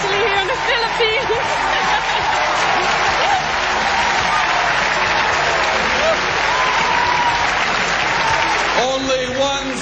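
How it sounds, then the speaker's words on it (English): Loud, sustained applause and cheering from a large pageant audience in the Philippines for Miss Philippines Charlene Gonzalez at Miss Universe 1994, a dense continuous roar with crowd chatter, steady throughout before easing slightly at the end. "I knew the crowd would go crazy for Charlene Gonzalez"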